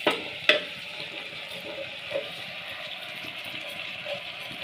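Rice added to a pressure cooker for potato rice and stirred in hot oil, a soft steady sizzle with a few sharp scrapes and clinks of a spoon against the metal pot.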